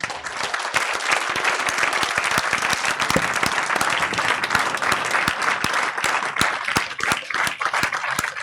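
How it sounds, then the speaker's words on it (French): A room full of people clap for newly installed deputy mayors at a municipal council investiture in Cassis, dense and loud, with sharp individual claps standing out against the sustained roar throughout. "On peut les applaudir aussi."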